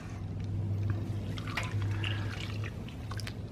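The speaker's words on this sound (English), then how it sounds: "And then put your milk in there." Milk pours steadily into a bowl of breadcrumbs, making a soft, continuous liquid trickle with light drips, close by and without talk.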